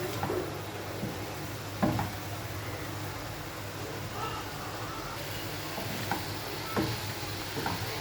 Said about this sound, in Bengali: এরপর আমি একটু নেড়ে দিচ্ছি মাছ পাতা মরিচ পেঁয়াজ রসুন